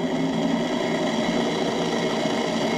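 A Pelican Bass Raider boat's motor runs steadily at a higher speed setting, giving a continuous close mechanical hum and whine with a fine vibration, and no voices.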